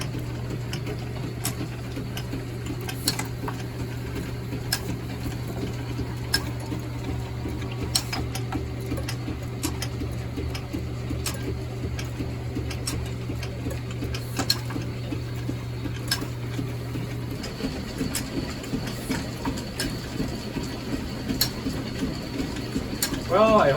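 Hendey Machine Co. metal planer from Torrington, with a T-slotted table, running with a steady low mechanical hum and repeated clicks and clanks of its gearing; the drone drops out near the end as the motion changes, and there is some talk over it.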